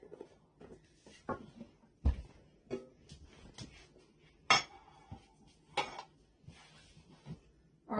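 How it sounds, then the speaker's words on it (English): Cooked rice stirred in a pot beside roasted vegetables for vegan Turkish spiced chickpea bowls: faint, irregular scrapes and clinks of a utensil against the pot, a dozen or so soft knocks spread through the stretch. "So I'm just going to stir this rice up a little bit."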